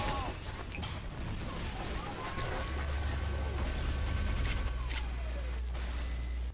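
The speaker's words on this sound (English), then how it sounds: "I do love the syringe guns." Blutsauger syringe gun fire from a Medic in Team Fortress 2 on the Gravelpit map, rapid shots mixed into a dense, loud game battle with explosions and constant gunfire throughout.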